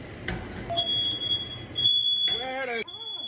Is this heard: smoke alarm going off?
yes